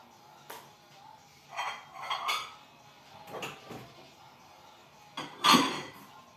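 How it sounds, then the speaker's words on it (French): Clinks and clatters of dishes and utensils in a sink, a few scattered bursts with quiet gaps, fairly close and moderately loud. "j'ai continué un peu la vaisselle"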